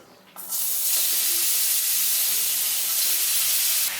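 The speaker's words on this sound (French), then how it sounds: "Une fois que votre huile est chaude, vous pouvez mettre vos courgettes." Sliced courgettes hit hot olive oil in a pan, bursting into a loud, dense sizzle right at the start that stays steady and hissing throughout.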